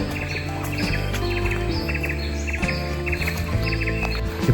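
Sooty-headed bulbuls chirp in repeated short bursts of bright, tweeting calls over a constant background hum outdoors in East Java.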